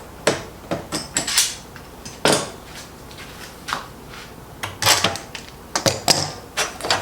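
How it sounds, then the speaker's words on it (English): Woodworking clamps being taken off a board that is being edge-jointed with a hand plane: a close, irregular series of sharp metallic clanks, knocks and rattles with short pauses between them. "now take your clamps off"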